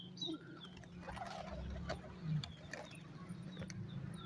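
Pigeons on a rooftop give soft, low coos and faint flutters, quiet and somewhat distant against a dull background hum.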